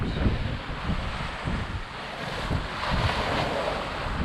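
Wind and waves while sailing between Caribbean islands, a steady roaring gust of wind noise on the microphone with surges of breaking water against the boat, continuous and moderately loud.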